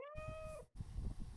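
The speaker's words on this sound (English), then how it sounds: "Oh, purr and everything." A pet cat gives a clear, close meow, followed by a low, rumbling purr that continues after a brief pause.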